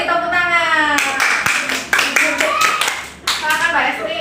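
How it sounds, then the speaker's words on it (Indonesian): Schoolchildren in a junior high classroom clap their hands together in a quick burst of loud, uneven claps, with kids' voices chattering in the background. "Beri tepuk tangan."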